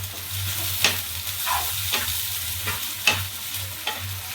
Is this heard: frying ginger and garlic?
yes